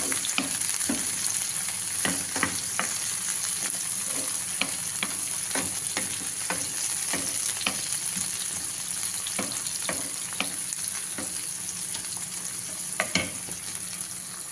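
Onions and tomatoes frying in a pan for a mutton drumstick curry, a steady close sizzle with scattered sharp clicks from stirring, no one talking.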